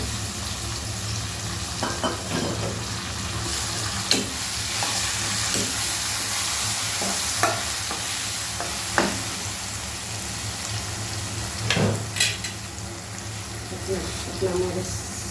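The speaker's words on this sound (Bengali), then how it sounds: "এবার আমি বেগুন পুরি রাখছি" Eggplant pieces fry in a hot pan with a steady, close sizzle, broken by occasional sharp clinks and scrapes of stirring throughout.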